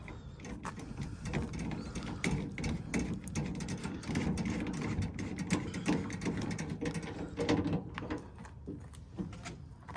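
Replacement screws on a 2014–2021 Toyota Tundra tailgate are driven tight with a quick run of close ratcheting clicks and mechanical rattles, steady and without pause and without talk.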